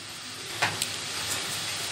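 Crepe filling fries in a pan with a steady, moderate sizzle and hiss, broken by a couple of brief clicks or stirs near the middle, with no voices.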